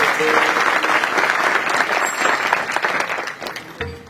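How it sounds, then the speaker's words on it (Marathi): A crowd at a kirtan applauds to welcome a guest, a dense, loud, sustained burst of clapping that tapers slightly toward the end. "आपण बाबांचं पुन्हा एकदा टाळी वाजून स्वागत केलं"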